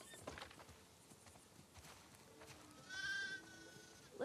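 A sheep in The Last of Us Part II gives a soft, drawn-out bleat near the end, over faint farmyard shuffling and footsteps in a quiet outdoor scene.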